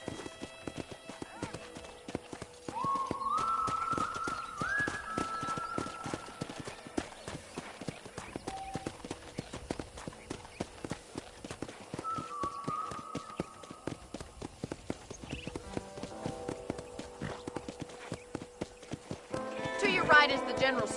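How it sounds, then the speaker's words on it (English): Horse hoofbeats from Red Dead Redemption, a steady clip-clop gallop running the whole way under a voice talking, with brief whinny-like tones partway through and a louder burst near the end. "Okay, let's see if you can still ride a horse."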